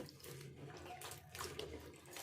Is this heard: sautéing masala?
no